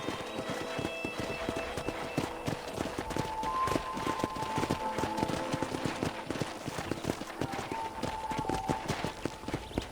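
Horse hooves clip-clop steadily in the Red Dead Redemption video game, a continuous, rhythmic trotting beat heard close up with faint tonal music underneath.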